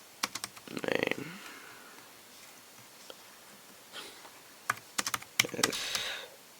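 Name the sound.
typing on Logitech K380 Bluetooth keyboard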